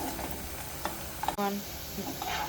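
Onions sizzle steadily in hot oil with a continuous broadband hiss, while a spoon scrapes and stirs through them, adding a few sharp clicks.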